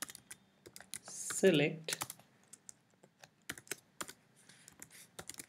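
Typing on a computer keyboard: quick, irregular key clicks close to the mic, coming in short bursts with brief pauses between them, while a person speaks quietly at times.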